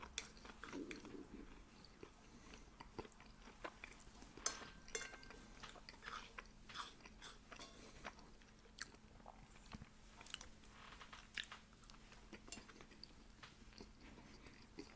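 Quiet close-up chewing of Indian food in a whispered ASMR setting, soft wet bites and mastication sounds with occasional light crunches and faint cutlery clinks, very low in level with no talk.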